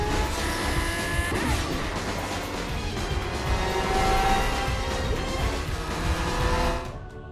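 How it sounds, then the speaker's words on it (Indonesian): Sports car engine roars at high revs in a film chase scene, loud and sustained with tire noise and a rising, shifting pitch before cutting off abruptly at the end. "Frank berusaha mengejar Gianni dengan mobil sport yang ada di sana."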